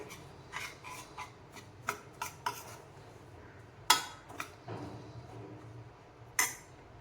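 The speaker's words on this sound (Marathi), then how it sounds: "थोडंसं 2 मिनिट त्याला आपण फक्त हलवून घेऊया, थोडा गरम करून घेऊया" Dry semolina (rava) being stirred and warmed in a hot pan over low heat: a spoon scrapes and rubs against the metal pan in a slow, irregular rhythm, with occasional sharper clinks, close and fairly soft.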